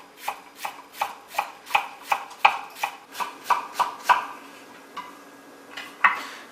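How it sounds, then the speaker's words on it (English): A knife dicing an onion on a cutting board, a fast even run of about a dozen sharp chops, then a pause and a few more scattered cuts, close and crisp. "To dice an onion, you do what I just did."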